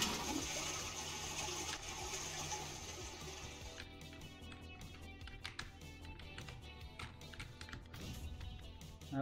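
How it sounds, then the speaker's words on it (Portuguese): A toilet flushes in the video game God's Trigger, a rushing, gurgling swirl of water that starts strong and slowly fades under faint clicks, with no voices. "Vou dar descarga."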